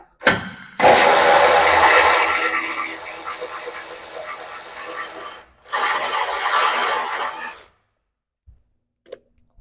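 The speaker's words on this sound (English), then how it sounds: "There's 4 14mm hex bolts on top, so we're just going to start removing those." A ratchet wrench clicks rapidly as it loosens the 14mm hex bolts on the top beam of a 2024 Land Cruiser 79 Series front bumper. Two close bursts of ratcheting are separated by a short pause, then the clip falls quiet.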